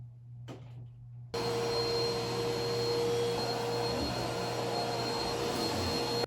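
A vacuum cleaner switches on abruptly after a quiet room moment and then runs as a loud, steady droning whine while cleaning a room floor, continuous to the end.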